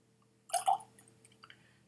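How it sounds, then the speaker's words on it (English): A spoonful of water drips into a glass of GlenDronach 15 Scotch whisky, giving two quick close splashes followed by a few faint trailing drips in a quiet room. "I'm going to add some water."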